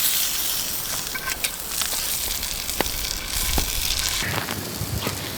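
Food fries in a frying pan at a riverside camp in the Victorian High Country, with a soft continuous sizzle and scattered pops and crackles at a moderate distance.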